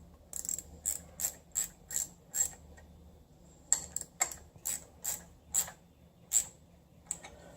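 A ratchet wrench with a 12 mm socket clicks in short repeated bursts of ratcheting, loud and close, while working on accessory belts for a V6-swapped Miata, with a brief pause midway.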